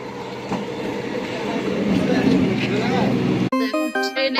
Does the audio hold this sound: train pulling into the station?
yes